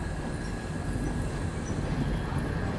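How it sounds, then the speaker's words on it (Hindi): The Shiv Ganga SF Express passenger train runs on the Banaras–New Delhi line just after leaving Banaras. The carriage gives off a steady, loud rumble with a constant high whine running through it, and nobody speaks. "डिपार्चर अपनी ट्रेन का हो चुका है बनारस से"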